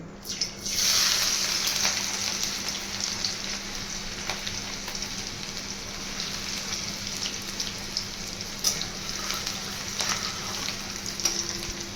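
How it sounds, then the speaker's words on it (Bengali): Chopped garlic dropped into very hot oil in a wok for mixed fried rice; a burst of sizzling begins after a second of quiet and settles into a steady, moderate crackle. "তেলটা খুব ভালো করে গরম হয়ে গেলে রসুন কুচিগুলো দিয়ে দেবো।"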